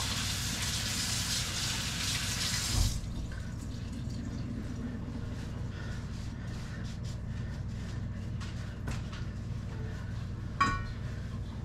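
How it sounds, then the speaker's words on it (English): A sink tap runs with a steady hiss for about three seconds, then shuts off, followed by quiet kitchen sounds with faint drips and a couple of small knocks. "I'm just gonna wash my hands real quick here."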